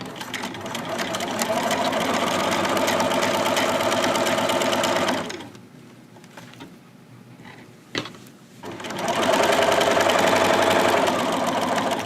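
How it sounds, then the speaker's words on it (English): Sewing machine stitching the seam of a zipper bag with backstitching, a steady close mechanical whir for about five seconds, a short pause with light handling and a click, then stitching again, with no talk. "I'm going to sew, really make sure you backstitch at this top part."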